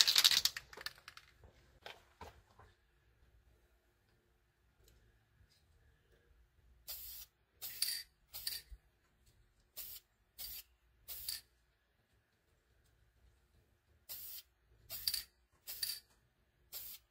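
A Mossberg Maverick 88 shotgun gets a second gray coat from a spray can, heard as a series of short, sharp hissing bursts separated by quiet gaps, after a few clinks and handling noises at the start.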